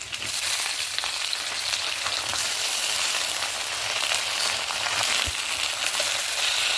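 Vegetables and fresh greens fry in a pan with a loud, steady, dense sizzle, continuous and close throughout with no talking.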